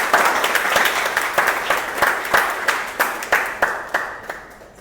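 An audience claps at a Toastmasters club meeting, close, steady applause with distinct hand claps that gradually thin out and fade toward the end.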